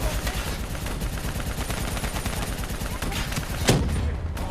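Dense, sustained automatic gunfire aimed at a VTOL in Call of Duty Black Ops 3, rapid overlapping shots rattling steadily throughout with one sharper blast near the end.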